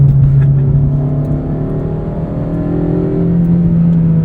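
A 2009 Honda Civic Si engine holds a steady, loud drone that climbs slightly in pitch as VTEC engages above 6,000 rpm, revving high without any talking.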